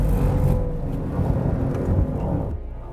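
A Mercedes-AMG GT63 4MATIC+ engine in drift mode, shifted down to second gear, gives off a deep, loud, continuous rumble and growl. The sound is close and steady and drops slightly near the end.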